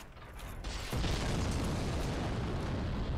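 Bombs bursting in Dark Souls at Sen's Fortress, a sudden heavy boom near the one-second mark that swells into a loud, sustained rumbling roar, with no talking.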